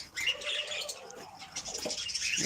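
Several pet birds in a hobby aviary give continuous chirps, tweets and soft coos at close range, a busy overlapping chatter with no speech.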